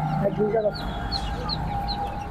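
Chicks cluck and peep close by at a poultry market, several birds calling in short repeated bursts over a steady background hum.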